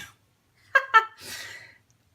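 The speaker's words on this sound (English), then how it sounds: "I think the sneezes are going to stay in" A single close sneeze: two sharp inhaled catches followed by a breathy burst, then quiet.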